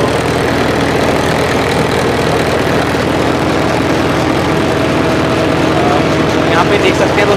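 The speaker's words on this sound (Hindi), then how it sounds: "दोस्तों ये जो ट्रैक्टर चल रहा है 12 की स्पीड पे ट्रैक्टर आसानी से चल रहा है" A tractor engine runs steadily while powering a Malwa multicrop thresher in a field after rain, a loud continuous low drone with machinery hum and no break.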